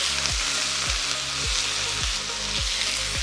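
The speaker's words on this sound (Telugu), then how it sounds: "తాలింపు పోపు వేగగానే వంకాయలు వేసేస్తున్నాను." Brinjals hit hot tempering oil seasoned with curry leaves and dried red chillies, for a brinjal and raw coconut curry. A loud, steady sizzle fills the pan, broken by a regular series of scraping stirs.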